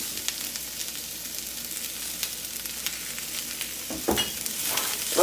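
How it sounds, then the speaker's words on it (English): Ramen noodles tossed and toasted in a little oil in a pan over medium heat, a steady soft sizzle with scattered scraping stirs and a louder clatter of tossing near the end. "I'm also going to want to toast or brown a little bit of the ramen noodles, so I'm just going to toss it around a little bit"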